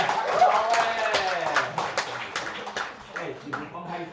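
A church congregation claps during a combined Mandarin and Taiwanese Sunday worship service, the sharp hand claps mixing with people talking and murmuring throughout.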